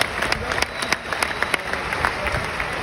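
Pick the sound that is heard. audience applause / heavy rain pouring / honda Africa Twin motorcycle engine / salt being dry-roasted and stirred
audience applause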